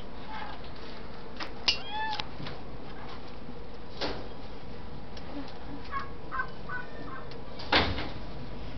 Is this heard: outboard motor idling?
no